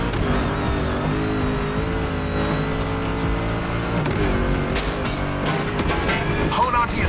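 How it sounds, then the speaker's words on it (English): A Mustang races through a swampy off-road course in The Crew Motorfest, its engine droning steadily for the whole stretch, with a brief tire squeal near the end, and a voice talks over it. "Make that Mustang jump like the devil is after it."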